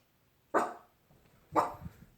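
Two sharp dog barks about a second apart, close and fairly loud, with quiet gaps around them and no talk.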